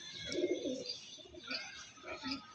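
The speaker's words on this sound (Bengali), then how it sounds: "পায়ের আগুন খুব সুন্দর সুন্দর পায়রা আছে সবই আন্ধ্রা ব্লাডের পায়রা" Andhra blood breed pigeons in a home loft coo softly, with several low, throaty rolling calls overlapping at a quiet, close distance.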